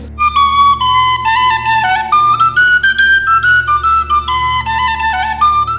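Someone whistles a clear, lilting melody up close during a paranormal investigation at Eastern State Penitentiary, the notes gliding and hopping steadily with no talking.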